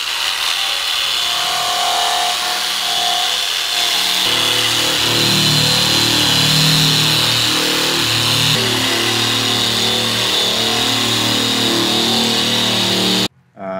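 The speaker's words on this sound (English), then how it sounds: "After scuffing the paint with the 120 grit, we're going to be swapping to the 40 grit." A power sander with 120-grit paper scuffs the painted body of a new Jeep Gladiator JT, a loud, steady, close grinding hum running unbroken for about thirteen seconds before stopping abruptly.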